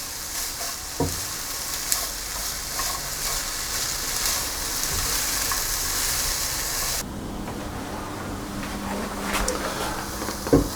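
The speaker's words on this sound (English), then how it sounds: "So I'll saute these with just a little bit of oil until they've started to soften a little bit" Onions and carrots sauté in a little oil, giving a steady close sizzle and hiss with occasional stirring clicks, the sizzle dropping quieter partway through.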